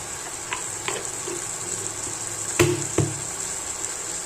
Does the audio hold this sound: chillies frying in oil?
yes